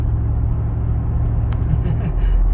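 Deep, steady engine rumble from a Jeep Wrangler Rubicon 392 under light throttle during a test drive, a loud low drone heard from inside the vehicle with one brief click partway through.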